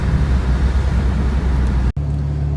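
A rebuilt BMW bought at auction runs with a loud, rough, steady low drone, briefly cutting out for an instant before settling back into a lower idle.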